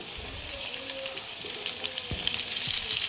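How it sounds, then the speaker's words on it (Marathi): Tomatoes hit a pan of onions already fried until browned, setting off a steady close sizzle with light stirring and scraping, a few brief clacks cutting through the crackle. "आता आपण त्याच्यामध्ये हे टोमॅटो घालून घेऊया"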